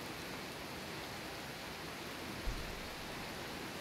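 Steady, soft hiss of rain falling in the game Skyrim, an even wash of faint noise with one small low bump midway and no voices.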